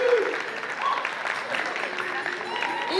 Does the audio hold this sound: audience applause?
yes